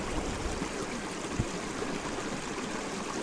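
Water runs steadily through a gold panning sluice box beside a forest river in an old gold area, a continuous close rushing trickle with no talk.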